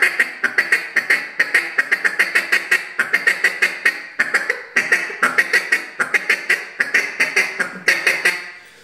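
Rapid-fire duck feed call blown on a handheld waterfowl call, long runs of quick, clipped quack notes in steady bursts with brief pauses between them, close and loud with no talking.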